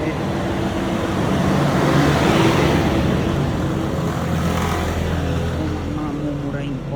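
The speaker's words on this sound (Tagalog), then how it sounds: "Mga mumurahin kotse." Cheap cars pass on a road in La Trinidad, Benguet, a continuous loud roar of traffic nearby, with someone talking over it.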